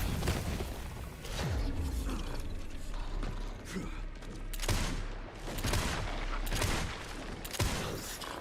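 Resident Evil Requiem gunfire: several sharp, loud shots spaced a second or so apart, mixed with mechanical clacks and rattling between them and no talk.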